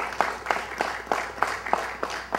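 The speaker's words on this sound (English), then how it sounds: "Let's give our governor a great round of applause." A crowd gives a round of applause for the governor at a press conference on new gun safety legislation, with steady clapping that rises in regular, rhythmic bursts at moderate volume and no talk over it.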